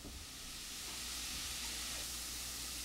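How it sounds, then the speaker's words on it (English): Italian sausage browning on medium heat in a pan for lasagna gives a steady, broadband sizzle that holds fairly loud and close the whole time, with no talking. "Can you hear the Italian sausage sizzling?"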